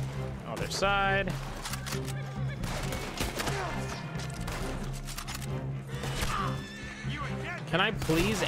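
A horse whinnies loudly in Red Dead Online, a Western game, with hoofbeats clip-clopping along and game sounds in the background; someone talks over parts of it.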